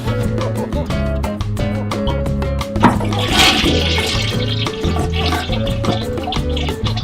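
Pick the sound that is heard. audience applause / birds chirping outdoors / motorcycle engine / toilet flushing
toilet flushing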